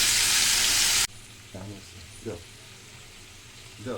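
Fish curry spices sizzling loudly with turmeric for a tengra fish and potato dish, a dense burst of frying for the first second, then quieter sizzle with a few short stirring scrapes.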